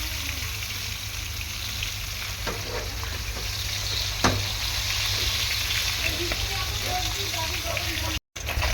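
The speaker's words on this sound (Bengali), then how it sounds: "মাছগুলো উল্টে পাল্টে ভালো করে ভেজে নিয়েছি দুদিকেই ভালো করে ভাজা হয়েছে" Pieces of snakehead (shol) fish frying in oil and being turned in the pan, a loud constant sizzle with occasional scraping clicks, steady throughout apart from a brief cut near the end.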